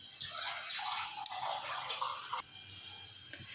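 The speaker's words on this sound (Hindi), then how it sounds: "हमने 2 गिलास में पानी शामिल किया है।" Water being poured into a pot of soaked black chickpeas with spices, a steady splashing pour that runs for about two and a half seconds, then stops, leaving faint room noise.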